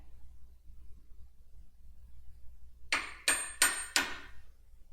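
Four sharp metallic hammer blows on a part in a wrenching session, struck at a steady rhythm near the end after quiet background, each a crisp close ringing clank.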